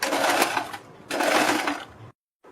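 A sewing machine stitches a plate-style neckline along buckram in two loud, close bursts of steady whirring with a short pause between, then goes quiet.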